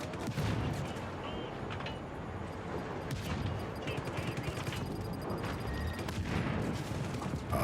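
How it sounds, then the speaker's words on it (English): Video game gunfire, dense continuous bursts of shots and heavy impacts filling the whole stretch at a steady loud level. "Who's shooting at me?"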